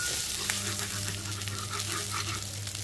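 Chopped onions sizzle in hot oil in a pan as the start of egg fried rice, a steady close-up crackling hiss that runs unbroken throughout with no talking.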